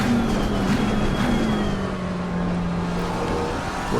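A Porsche race car in the racing game Assetto Corsa Competizione at Silverstone drones steadily from behind, its engine note holding a sustained tone over road and tyre noise, gradually shifting pitch as it closes in.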